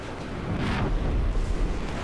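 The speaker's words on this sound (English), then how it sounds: "God, that gun sounds immaculate" A Leopard 2K tank's 120mm smoothbore cannon fires in War Thunder, giving one heavy, deep boom that swells and rolls on with a low rumble. No one speaks over it.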